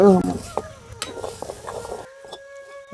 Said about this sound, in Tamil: கருவேப்பிலையே போட்டு தாளிக்கிறோம்